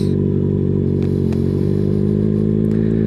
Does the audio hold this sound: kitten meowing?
no